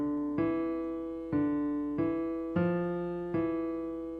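Notes of an old Gregorian chant mode played one at a time on a keyed instrument, five clear, separate tones struck at a slow, even pace, each ringing and decaying, with no talking.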